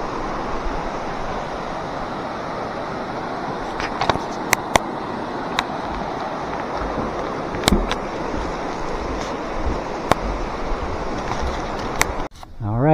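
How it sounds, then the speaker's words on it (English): A small creek along the Long Trail flows with a steady, even rush of water, close and constant, with a few sharp clicks scattered through and a brief handling thump near the end. "Here's a nice little creek."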